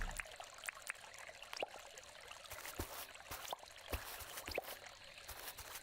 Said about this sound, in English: We need more water beds to make this waterfall more epic.